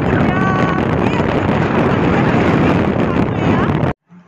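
Strong wind buffets the microphone in a loud, continuous rumble for nearly four seconds while riding outdoors in a vehicle, then cuts off abruptly into near silence.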